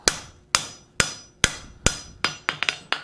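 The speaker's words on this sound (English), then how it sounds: "go ahead and forge that edge down. Just like if you're putting a little bevel on it" A hammer forges down the edge of a steel bowl, nine sharp metallic strikes ringing out close and loud, evenly spaced at first, then quickening into a faster cluster at the end.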